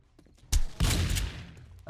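Gunfire in the video game 7 Days to Die: a sharp shot, then a heavy burst of rapid fire that rings on and slowly fades, loud and close, with no talk.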